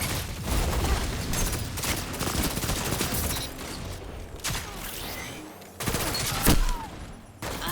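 The Trespasser sidearm in Destiny 2 fires in rapid full-auto bursts during a player-versus-player match. The shots are dense and crackling, with short pauses between bursts and sharp impacts toward the end.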